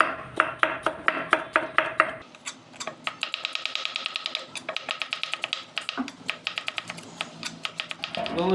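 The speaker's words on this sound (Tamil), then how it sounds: "ஒரு 300 கிராம் தக்காளி பழம் வெட்டிடுவோம்" Tomatoes being chopped with a knife on a board, about 300 grams of them, for a mutton curry: a fast, steady run of crisp, close knife taps, evenly spaced and continuing for several seconds without talk.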